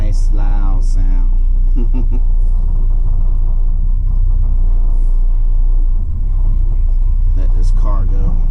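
Garbage truck engine in the cab, a heavy low diesel rumble that stays loud and constant throughout, with someone talking over it in bursts.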